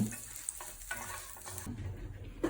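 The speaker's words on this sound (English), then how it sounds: "I'm going to put a little butter in the frying pan" A pan sizzles and crackles softly and steadily, with light scraping and stirring sounds. No one speaks.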